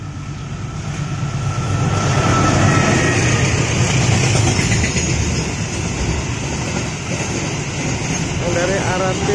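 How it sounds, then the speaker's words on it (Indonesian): A freight or container train rolls past close by, its loud, steady rumble swelling and holding for the whole stretch without a break. "Yang dari arah barat udah kelihatan kereta api barang"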